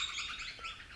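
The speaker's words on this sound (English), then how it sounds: "there are a few noisy miners up there" Noisy miners and magpies call at a campsite by Wivenhoe Dam, a faint, continuous wash of high chirping from birds up in the trees some distance off.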